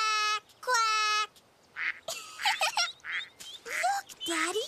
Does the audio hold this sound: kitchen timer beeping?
no